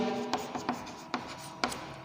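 Marker or chalk writing on a classroom board while spelling out an organic chemical name, a few short scratchy strokes spaced apart, close and fairly quiet with no talking.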